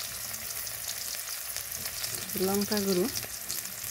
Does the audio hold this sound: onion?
yes